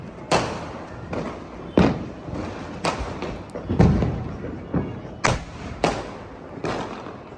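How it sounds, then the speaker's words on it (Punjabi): Diwali firecrackers bang across Hoshiarpur city, a string of sharp, loud blasts spaced a second or so apart, some near and some farther off, with no one speaking. "ਹਰ ਤਰਫ ਪਟਾਕਿਆਂ ਦੀ ਆਵਾਜ਼ਾਂ ਆ ਰਹੀਆਂ ਹਨ"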